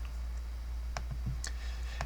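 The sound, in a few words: computer mouse clicks in SketchUp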